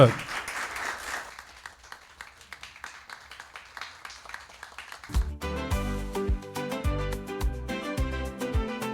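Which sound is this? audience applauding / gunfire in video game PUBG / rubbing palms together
audience applauding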